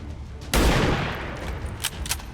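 A single sniper rifle shot fired by a soldier in the tactical video game XCOM 2 hits hard and loud, then decays into a long rumbling tail, followed by a couple of faint clicks, with no voices.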